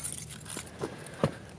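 Keys jangle in a pocket, a few soft metallic clinks ending in one sharper jingle, close and brief.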